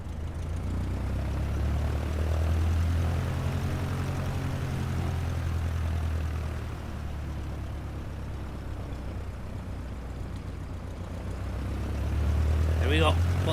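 Propeller aircraft engine throttling up to full power on an undulating racing-track strip used as a runway near Connemara Airport, a loud steady low drone that swells toward the end, with voices talking over it.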